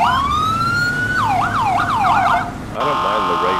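A police siren from the GTA video game rises into a long wail, switches to a rapid yelping cycle, then changes to a harsher, buzzier tone. It is loud and close, with no talking.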